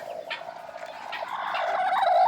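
A turkey gobbles in rapid warbling bursts, fairly close and steady, with the calls growing slightly louder toward the end.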